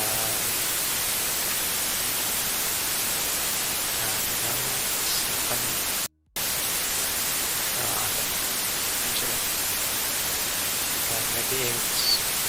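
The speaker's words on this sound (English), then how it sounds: "you can hear it, you listen to white noise" Steady white noise played as an example of noise used in terrain generation, a flat broadband hiss filling the whole clip at even loudness, with one brief dropout near the middle.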